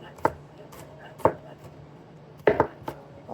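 Knife roughly chopping a quarter of an onion on a board, a few sharp separate chops with pauses, then a quick double chop near the end, close and fairly loud.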